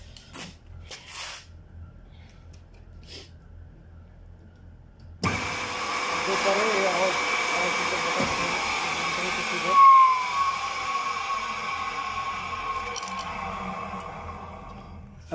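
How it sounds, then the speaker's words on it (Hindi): A repaired three-phase electric motor switches on after clicks and handling, then runs with a steady whirring hum and faint bearing noise, close and continuous. "चलो ये सही घूम रहा है, थोड़ा सा बैरिंग में आवाज़ आ रही है"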